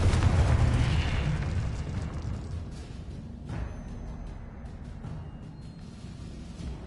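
A Confringo fire spell bursting in Hogwarts Legacy, a loud booming blast at the start that rumbles away over several seconds, followed by a smaller muffled pop midway, with no talking.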